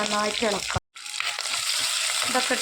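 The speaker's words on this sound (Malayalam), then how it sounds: "നമ്മൾ അതിലേക്ക് കുറച്ച് ചെറിയ ഉള്ളി, പച്ചമുളക്, കറിവേപ്പില ഇതൊക്കെ ഇട്ട്" Shallots, green chillies and curry leaves frying in hot oil for a Kerala fish curry, producing a loud, dense sizzle that fills the clip after a brief silent gap, with a person talking over it.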